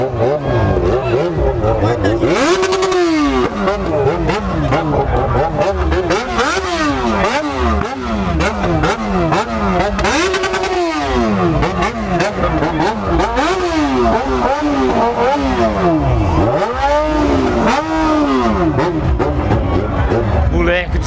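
A hot-running Yamaha XJ6 motorcycle revs hard again and again at a street bike gathering in an alley, its engine pitch sweeping up and down in loud, close bursts for the whole stretch.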